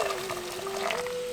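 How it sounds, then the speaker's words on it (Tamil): Hot water poured from a vessel over cut palm fruit (nungu) pieces mixed with rock salt, for a village-style palm fruit curry; a steady, close pour with a rising pitch as the container fills, no voices. "கொஞ்சம் கல்லுப்பை சேர்த்து சுடுதண்ணியை ஊற்றி ஊற விட்டுருவோம்"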